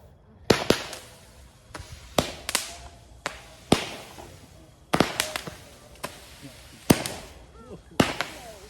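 Mini firework cakes fire a run of sharp pops and crackling bursts, about a dozen loud reports spaced unevenly with crackle trailing after each, close by outdoors.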